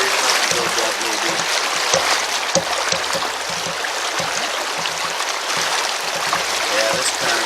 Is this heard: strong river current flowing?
yes